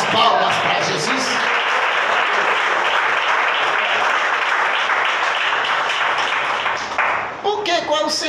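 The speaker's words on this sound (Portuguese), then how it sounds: "A igreja glorifica e bate as palmas para Jesus." A church congregation clapping their hands in praise during a service, sustained dense loud applause that tapers near the end, with voices rising over it.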